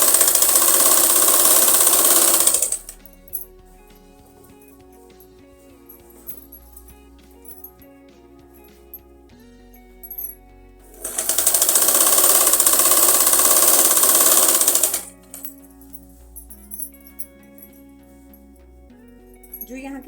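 A sewing machine stitches an umbrella frock in two loud bursts of rapid, even whirring, each a few seconds long, with quiet pauses and faint handling noises between them.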